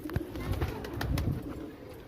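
Soft, low pigeon cooing close by, over a dull background hum with a few small clicks.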